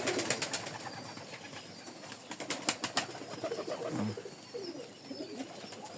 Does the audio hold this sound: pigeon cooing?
yes